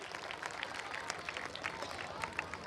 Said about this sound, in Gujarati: તાળીઓના જોરદાર ગળગળાટથી એમને આપણે વધાવી લઈએ.